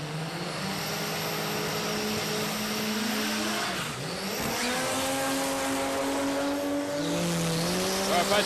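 Nitro funny cars, including a Suzuki and a Falcon, launch hard at Palmyra Dragway with tyres spinning: a loud, sustained engine roar with rising and falling pitch sweeps and tyre squeal, near and continuous throughout.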